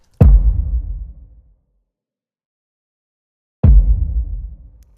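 Two deep, booming cinematic impacts a few seconds apart, each a heavy low thud that decays slowly into silence.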